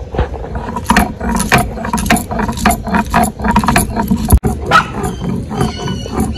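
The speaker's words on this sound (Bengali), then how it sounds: "লঙ্কাটা আমি বেটে নিব।" Green and dried chilies being ground by hand for a fried small-fish fritter recipe, with rapid rhythmic scraping and knocking strokes close by, loud and uneven.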